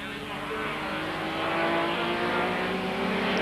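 Historic racing cars, a Lotus 24 and a Talbot Largo, battle at the Montlhéry circuit near Paris, their engines droning steadily and fairly loud throughout while a commentator talks over the noise.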